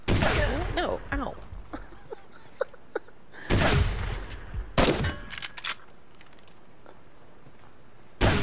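Shotgun blasts in the survival game Subsistence, a few loud close booms separated by quieter stretches of faint clicks and small sounds, with one more blast at the very end.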